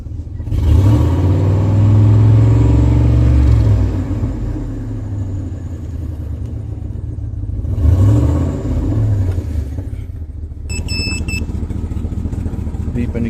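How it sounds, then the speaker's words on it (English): A 2004 Chevrolet Silverado pickup's engine revs up close, rising and falling in long throttle pulls with a deep rumble between, then settles to idle while a short electronic beeping chimes in near the end. "let me give it some more gas"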